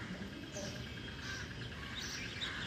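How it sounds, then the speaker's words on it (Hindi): Many birds chirp and call in the early morning from a house's upper gallery, a faint, steady chorus of scattered tweets with occasional crow-like caws in the background. "इतने सारे चिड़िया पक्षी लोग जो सुबह सुबह चिव चिव, बहुत सुकून लगता है ये आवाज़ सुन के"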